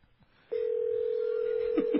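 A steady telephone tone sounds loud and close during a calling card call, holding one unbroken pitch for over a second, and two short dialing beeps follow near the end.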